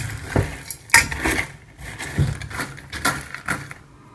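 A spoon scrapes and clinks through muesli and oat flakes in a bowl, giving a series of short knocks and rustles with an irregular rhythm.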